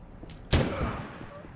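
Frag grenade explosion in the video game Abiotic Factor, a single sudden loud blast that decays over about a second into a low rumbling tail.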